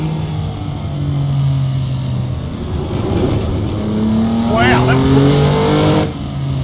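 A race car engine in a motion-simulator driving game, Targa Florio 73, revs hard and climbs through the gears, loud and continuous, while someone speaks over it.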